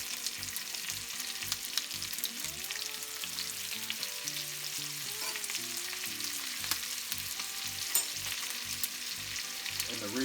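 Pork chops fry in a pan of butter with rosemary, giving a steady, moderately quiet sizzle and crackle throughout as the butter is basted over them, with faint scrapes and clinks of utensils.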